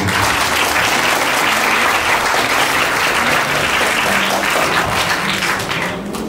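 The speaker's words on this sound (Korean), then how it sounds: "뜨거운 격려와 응원의 박수를 한 번 더 보내주시면 감사하겠습니다" Wedding guests in a penthouse venue in Seoul applaud the newlywed couple. The clapping is loud, close and continuous, then eases slightly at the very end.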